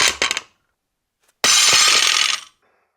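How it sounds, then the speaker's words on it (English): An Ivanko OBX 20 kg barbell, 29 mm shaft, drops a few inches onto the floor. A short metallic clatter comes first, then after a pause one loud ringing crash with a bright rattle that fades over about a second. "if I just do a real basic drop test with this bar from just a few inches off the ground"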